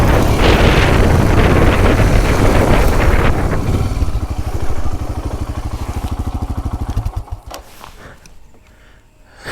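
Motorcycle engine holding a steady throttle while riding over sand on off-road terrain, a loud sustained drone under heavy wind buffeting that gives way to a rhythmic chugging pulse before fading out.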